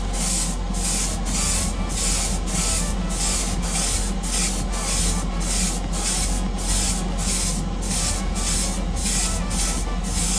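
Airbrush with a 0.45 nozzle spraying base coat onto Greek-style vases, a steady close hiss of air and paint with regular rhythmic pulses throughout, no talk.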